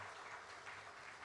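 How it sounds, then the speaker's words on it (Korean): Congregation in a Korean church sanctuary clapping to welcome a newly registered member, a steady faint wash of applause with no voices. "우리 박수로 환영하겠습니다"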